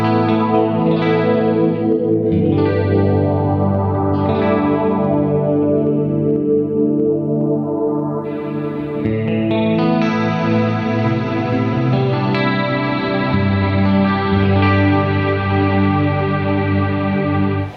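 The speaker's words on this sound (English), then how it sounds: "what I do use for that is this multi-delay block, and I set it to diffuser" A sustained electric guitar played through an FM3 multi-delay block set to diffuser, chords and notes washed in a dense, shimmering delay that smears each attack into a continuous, echoing ambient tail.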